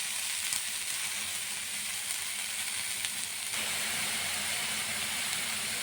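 Green chillies frying in a pan alongside leafy greens, giving a loud, steady hissing sizzle that carries on without a break.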